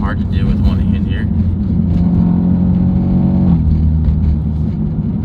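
A BMW F80 M3 with a 600 hp S55 engine on stock exhaust with resonators removed pulls hard, a steady loud engine drone rising in pitch from inside the cabin, with a voice talking over it.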